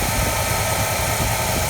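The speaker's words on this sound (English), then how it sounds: "open the EGR valve, engine stumbles, which is what we expect it to do" A 1979 Pontiac Firebird engine idles close up with its EGR valve held open, giving a dense, steady, rough-textured mechanical noise for a brief stretch, with no talk.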